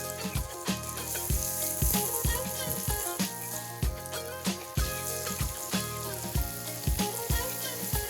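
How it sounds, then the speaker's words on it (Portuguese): Onion toasting with bacon in a pan, a continuous loud sizzle with regular scraping strokes of stirring, while background music plays under it. "Vamos dar uma boa tostada nessa cebola"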